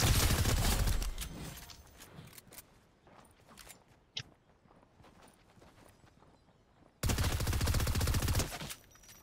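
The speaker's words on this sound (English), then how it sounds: "All those shots missed him every time" Rapid gunfire bursts from the video game Fortnite, dense loud volleys at the start, sparser shots in the middle, then another sustained loud barrage near the end.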